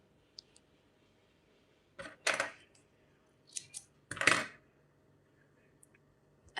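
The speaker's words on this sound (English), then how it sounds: "now you can just cut this yarn" Two pairs of quick, crisp scissor snips cutting crochet yarn, close and quiet, separated by a pause, with faint small clicks around them.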